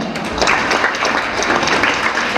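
Steady applause from the audience at a high school annual day celebration, a dense even wash of clapping from start to finish.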